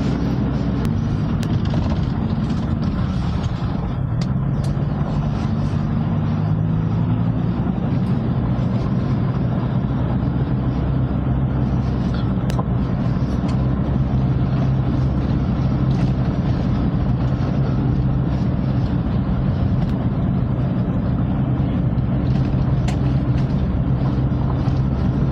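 A Toyota Hilux engine in four-wheel drive labours up a steep mountain road near the India–China border in Ladakh, a loud continuous low drone with rumble and road noise that holds steady throughout.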